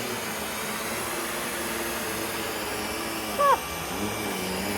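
A UWANT V500 vacuum cleaner runs on carpet with a continuous close whirring roar. Partway through, a short cat-like meow cuts in, followed by a brief spoken murmur.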